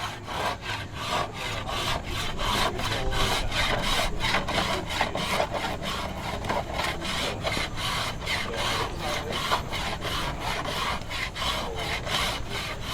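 A wooden bow being carved by hand without power tools: steady, rhythmic rasping strokes of a tool scraping along the wood, close and fairly loud, repeating about twice a second throughout with no talking.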